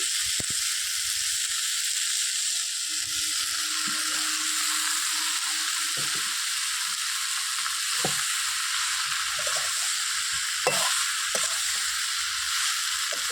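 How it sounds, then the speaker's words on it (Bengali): Bottle gourd frying in a pan over a wood-fired stove gives a steady, close sizzling hiss with a few faint clicks and taps, and no one speaks. "ভাজা হয়ে গেছে, এবার আমি লাউটা দিয়ে দেবো"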